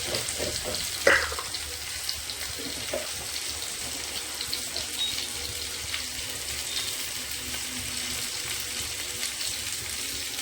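Green chilies and tomatoes fry in a pan with a steady, even sizzle, joined by a brief clatter near the start as they drop in; no one speaks.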